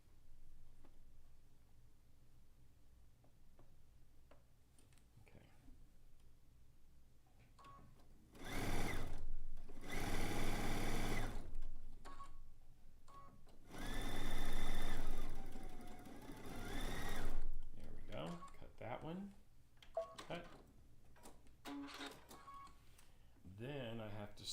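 A sewing machine stitches a zig zag quilt in two loud bursts of steady whirring, with quieter stretches around them where someone talks close to the mic.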